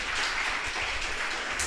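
Sustained audience applause at a school event, steady dense clapping filling the whole stretch with no talk over it.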